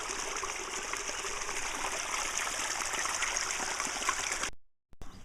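Stream of water flowing near a water wheel, a continuous close rushing trickle with steady hiss that cuts out abruptly near the end before a short faint return.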